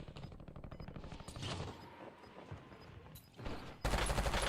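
Rapid SMG bursts in the Warzone video game, stuttering automatic fire in short volleys with pauses, moderately close and ending in a louder sustained burst, with no talking.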